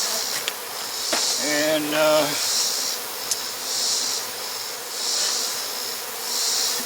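Honey bees buzz steadily around a beehive, a continuous close drone that swells and fades in waves, with a brief low tonal sound early on.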